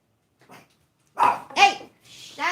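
A dog indoors at a tiny home gives a faint yip followed by two or three loud, close barks, then a higher whining bark at the end.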